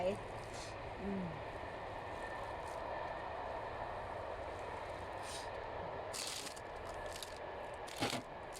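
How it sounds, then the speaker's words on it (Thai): A train passing near a house in Finland, heard from indoors as a faint, steady rolling rumble with a few clicks and knocks, under occasional light household sounds. "เสียงรถไฟดังจังหน่อยเด้อค่ะ บ้านที่คือ่ใกล้แถวล้างรถไฟ"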